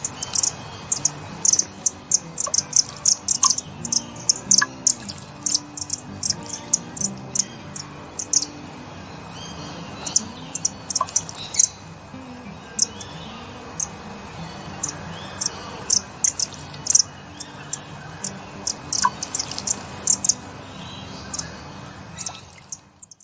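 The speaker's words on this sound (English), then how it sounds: "And that was a pair of variegated fairy wrens." A pair of variegated fairy wrens, an adult male and a younger bird, give repeated high, thin trilling chirps in short bursts over quiet backyard background, fairly close, with no talk.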